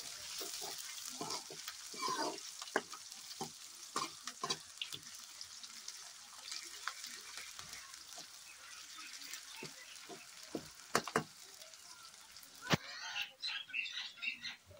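Chopped onion frying in hot oil in a home kitchen, with a steady crackling sizzle and repeated sharp stirring clicks running throughout, getting busier toward the end; no speech.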